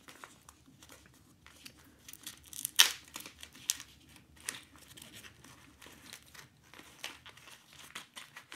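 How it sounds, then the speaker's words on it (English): A sealed packet holding inflation needles for a Mitre double action ball pump is torn open close by, with crisp crinkling of the wrapper throughout and one sharp tearing rip early on. "tearing the top seal apart and tipping out the contents of the packet"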